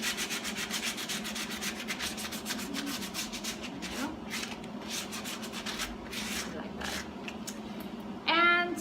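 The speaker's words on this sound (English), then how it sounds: "I'm going to go ahead and just give it a nice light grit sanding here." Rapid back-and-forth light-grit sanding strokes on a Nike Air Jordan shoe rasp in a steady rhythm, close up, with a voice talking underneath and a brief rustle near the end.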